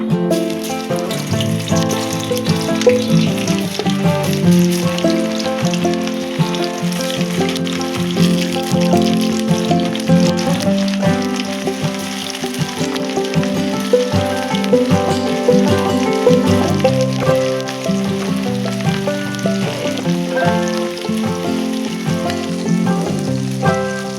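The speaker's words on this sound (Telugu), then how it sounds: "ఆయిల్ అయితే హీట్ అయ్యిందండి, వేసేస్తున్నాను కొద్ది కొద్దిగా." Ridge gourd pakodi deep frying in hot oil makes a loud, dense, continuous sizzle and bubbling crackle close up that holds steady for the whole stretch, with no talk.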